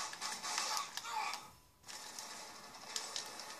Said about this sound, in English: He reloads his pistol, then he reloads his machine gun.